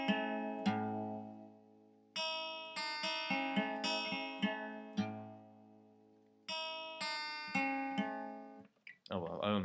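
Electric guitar picking out arpeggiated chords from a song, ringing notes struck one after another in several bursts, each decaying before the next, ending in a brief scrape of strings.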